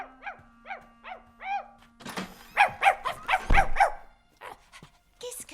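A dog barks indoors in a grandmother's bedroom, a rapid run of sharp yips and barks with a thump mixed in, close and lively.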